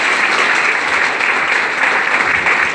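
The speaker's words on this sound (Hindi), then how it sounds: "एक बार ये सारे लीडर्स के लिए फ्रेंड दिल से जोरदार ताली बजाइए।" A meeting audience applauding loudly and close, a dense, continuous wash of many hands clapping with slight surges, no voices over it.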